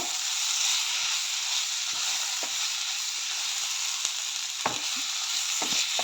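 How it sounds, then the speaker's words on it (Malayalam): Pepper chicken curry, Kerala style, sizzles and fries in a pan while being stirred, a constant bright hiss with a few soft scrapes of the spoon, close and alone. "എന്നിട്ട് നന്നായിട്ട് ഇളക്കി കൊടുക്കുക ഇത് ഇതിലേക്ക് ശരിക്കും മിക്സ് ആവുന്ന രീതിയിൽ ഇളക്കി കൊടുക്കുക"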